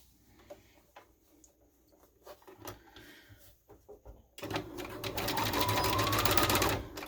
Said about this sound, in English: we're going to sew this end to tack the elastic in place